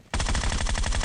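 Rapid automatic gunfire in the PUBG Mobile battle royale erupts suddenly after a brief quiet and continues as an unbroken, loud, evenly spaced burst of shots until the clip ends.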